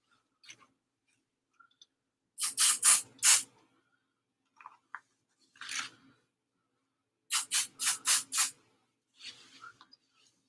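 Adhesive spray goes onto fabric pieces for a purse in short, sharp hissing bursts, first a quick run of three, then a couple of single puffs, then another run of four. Quiet gaps fall between the bursts, with small handling clicks.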